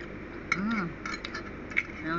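Light metallic clinks from a small cooking pot of chicken and egg soup, a couple of sharp taps over a background of soft voices and kitchen noise.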